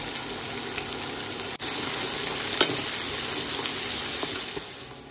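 Thinly sliced onions sizzling in a pan on an electric hob, a steady bright frying hiss with a brief clatter of stirring partway through.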